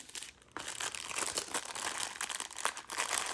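Plastic candy wrapping crinkles and crackles continuously up close as the package is flattened, folded over and sealed, with busy irregular rustling throughout.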